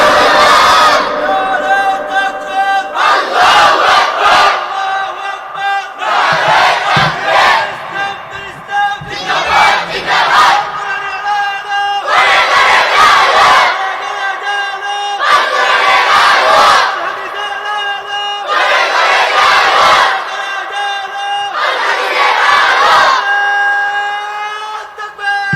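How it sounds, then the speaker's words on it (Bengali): A large crowd chants a slogan in loud, rhythmic unison, about eight repeated surges of massed voices with short pauses between them, strong and reverberant. "আল্লাহু আকবরের স্লোগান যতক্ষণ চলে"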